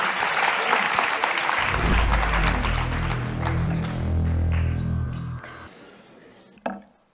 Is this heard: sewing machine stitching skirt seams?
no